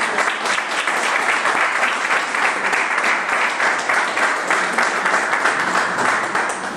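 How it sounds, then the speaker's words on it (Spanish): A conference audience bursts into sustained applause to welcome a speaker, dense clapping that stays steady and fairly loud for the whole stretch. "Así que recibimos con un aplauso a Alejandro."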